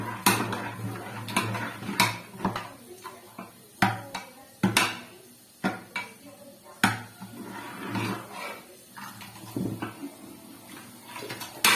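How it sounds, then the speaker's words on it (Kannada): Tomato being mashed in a metal pot for moong dal saaru: repeated sharp clanks and scrapes of a utensil against the pot in an irregular rhythm, close and fairly loud, with faint kitchen sounds between strikes. "ಟೊಮೊಟೊ ಇತ್ತಲ್ಲ ಅದನ್ನ ಇದ್ರಲ್ಲೇ ಮ್ಯಾಶ್ ಮಾಡ್ಕೊತಾ ಇದ್ದೀನಿ ನಾನು."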